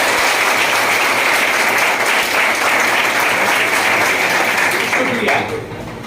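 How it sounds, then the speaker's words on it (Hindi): An audience claps together in sustained, dense applause that fills the space at a steady level, then thins and fades over the final second. "एक बार अपनी सफलता के लिए ताली बजाइए"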